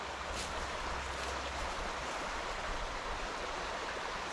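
A riverside stream flows steadily, producing a continuous, even rush of water that holds at a constant level with no breaks or voices.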